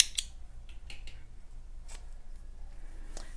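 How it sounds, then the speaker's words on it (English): Scissors snip crochet yarn at close range: a sharp cut at the start, followed by a few softer blade clicks and handling rustles over a quiet background. "and cut your yarn"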